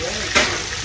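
Meatballs sizzle in hot grease in a frying pan as they are turned, a brief steady frying hiss with a soft scrape or clack partway through, no speech.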